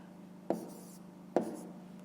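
A pen writing by hand during a fifth-grade maths exercise gives two short scratchy strokes about a second apart, close and quiet over a faint steady background hum.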